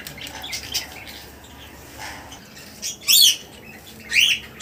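Jaba pigeons in a running-colony bird setup give two loud, squawking calls near the end, with fainter chirps and rustling earlier in an otherwise quiet room.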